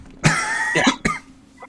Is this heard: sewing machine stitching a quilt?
no